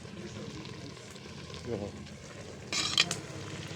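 Food frying in a pan over a wood fire, with a steady sizzle and occasional stirring scrapes growing louder toward the end, while a voice briefly speaks.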